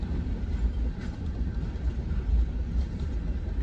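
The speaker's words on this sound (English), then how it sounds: "And there go the CSX locals." A CSX local freight train rolls past in a steady low rumble with faint rail clatter, moderately distant and continuous, with no voices.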